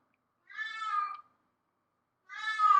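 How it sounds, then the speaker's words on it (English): A house cat meows twice, loud and close, each call long and hollering, with a full second of silence between them. "of course my cat's going to start hollering"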